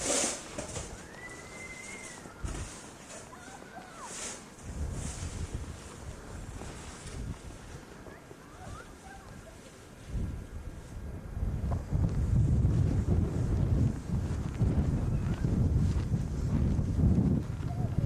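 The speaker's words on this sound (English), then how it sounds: "About 16 degrees with 40-mile-an-hour winds." Strong 40 mph snowstorm wind at about 16 degrees in 1993 roars and buffets the microphone in gusts, swelling louder toward the end, with voices at times.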